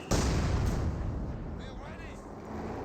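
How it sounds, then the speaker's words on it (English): Mortar shells strike in a Company of Heroes 2 battle, a dense continuous rumble of game explosions and artillery noise, loud throughout with a sharp impact near the start, while a commentator talks over it. "And now got mortar hits there."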